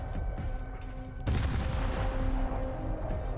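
Naval gunfire from the USS Alaska cruiser in War Thunder's naval battles: a sudden loud salvo erupts after a stretch of engine rumble, then a sustained roaring boom and rumble trails on for several seconds.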